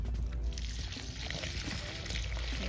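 Water is poured onto a pepper, basil or cilantro plant newly moved from a hydroponic system into soil, with a steady close pour and trickle throughout.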